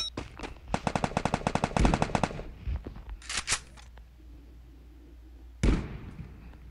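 Rapid bursts of automatic gunfire rattle off, then a few scattered single shots and a final loud blast, game-like and sharp.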